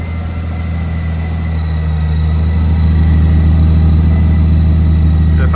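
A heavy motorcycle idles nearby with a loud, steady low rumble that swells slightly toward the end, and no one speaks.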